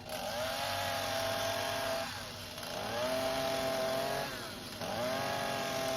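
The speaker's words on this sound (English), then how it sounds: "I'm going to go back to the chainsaw, just using the tip of the chainsaw" A chainsaw engine whines at high pitch, dipping briefly twice as its tip cuts beard lines into a wooden gnome carving, a steady, close buzzing with no talking.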